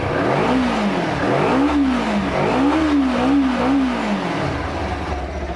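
A Kawasaki Z250 motorcycle engine revs up and down several times in a wavering rise and fall, loud and close, with a steady mechanical hum underneath and no talking.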